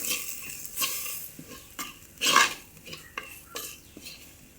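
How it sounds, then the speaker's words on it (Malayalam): Mushroom curry masala stirred in a pan, a spoon scraping and clinking against the metal in irregular strokes over a faint sizzle, close and fairly quiet. "നല്ലതുപോലെ തന്നെ ഇളക്കി കൊടുക്കുക"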